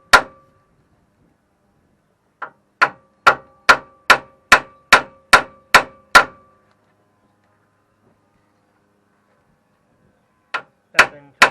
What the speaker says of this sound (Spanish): con el martillo, darle unos golpes